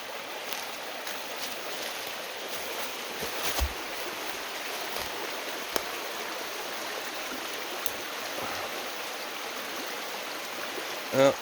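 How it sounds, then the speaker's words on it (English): A mountain brook flows with a continuous broad rush of water, steady and fairly close, with a few faint knocks and rustles over the top. "Mountain brook."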